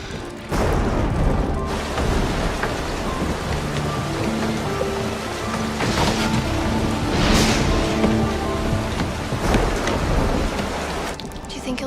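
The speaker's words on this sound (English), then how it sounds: "It's raining outside." Heavy rain falls outside during a thunderstorm, with a loud, steady hiss close by. Deep thunder rumbles swell through it, and faint musical tones sit underneath.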